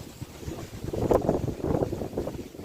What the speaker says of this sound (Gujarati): એકદમ મસ્ત પવન પણ આવી રહ્યો ઠંડો ઠંડો